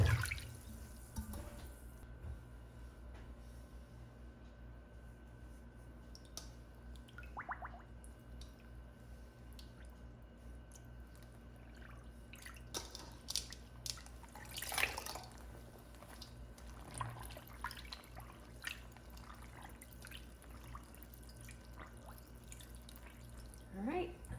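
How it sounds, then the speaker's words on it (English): Cool water with a small drop of Eucalan wool wash being prepared for soaking hand-dyed knits, heard as quiet drips, splashes and squishy liquid sounds, with a louder splash burst midway and a steady low background hum. "So I've got some cool water, we've got some Euclid, just put in a little drop."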